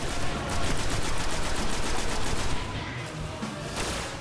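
A newly picked-up gun in the video game Destiny fires in a rapid, steady automatic stream for about two and a half seconds, loud and close, before tapering into a few scattered shots.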